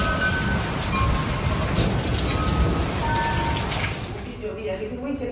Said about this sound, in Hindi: बहुत तेज़ बारिश है, पाँव तक आती है।